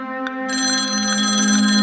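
A telephone rings with an incoming call in a horror audio drama, a steady electronic ring starting loud and close after a brief chirp, continuing alone without speech.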